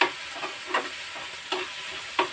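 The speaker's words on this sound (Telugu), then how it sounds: "ఇప్పుడు మనం వేయించుకున్న పన్నీర్ ముక్కలు కూడా వేసుకుని ఉడకనిద్దాం" Fried paneer pieces simmering in palak (spinach) gravy in a pan, with a steady soft sizzle and several light stirring scrapes and taps at irregular intervals, close up, with no talking.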